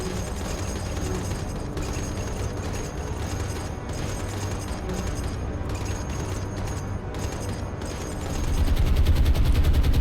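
Anti-aircraft guns in the War on the Sea video game firing at B-17 bombers, a dense rattle of rapid shots over a constant rumble, loud and continuous, swelling heavier near the end.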